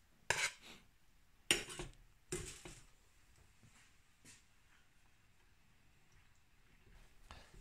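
Double cream, milk, caster sugar and vanilla seeds are tipped into a small saucepan, with a few close clinks and scrapes of utensils against metal early on, then a faint quiet stretch and one last clatter near the end.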